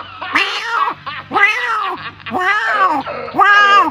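A person's voice imitates a kitten meowing, with four close, loud, drawn-out mews in a row, each rising then falling in pitch, separated by brief pauses.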